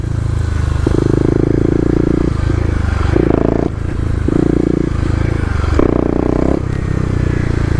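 A 2018 Kawasaki KLX250 dirt bike revs hard in second gear on urban off-road ground, its engine note surging and dropping in repeated bursts, loud and close, with scraping and clatter mixed in.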